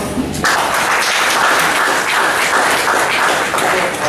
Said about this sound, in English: I think we should clap for.